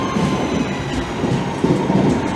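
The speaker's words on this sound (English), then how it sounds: "Next up, the 1222 Northern service to Crewe via Manchester Airport." A Northern passenger train runs to Crewe via Manchester Airport, giving a steady low rumble with faint rhythmic wheel clatter and a brief squeal as it passes nearby.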